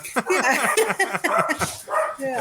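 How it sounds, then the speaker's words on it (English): A dog barking nearby in repeated sharp, yappy bursts, loud and close, with some whimpering tones between barks and speech faintly mixed in. "I'm sorry, the dog is distracting me"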